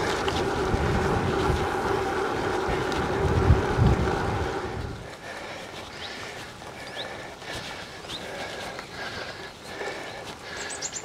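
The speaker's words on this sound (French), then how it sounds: "Encore le vent de face" Headwind buffeting the microphone while riding an Origine Graxx GTR gravel bike on a gravel route north of Paris, a loud rushing roar for several seconds that then drops to a lower, steadier rumble with faint ticks.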